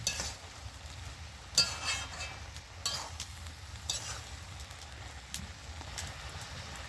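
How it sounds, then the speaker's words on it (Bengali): Red amaranth stems and other vegetables are stirred in a pan, with scattered scraping clinks from the utensil over a soft, steady sizzle, close up and with no talking. "ঢাকনাটা খুলে আমি এবারে সবজিগুলো আবার একটু নেড়ে দিচ্ছি।"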